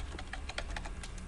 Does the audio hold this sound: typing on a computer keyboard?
yes